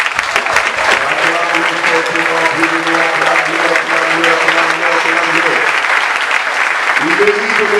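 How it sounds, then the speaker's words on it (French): A church congregation applauds during a Sunday worship service, loud and steady clapping mixed with voices and sustained tones that continue under it throughout. "Que vous acclamez le Seigneur."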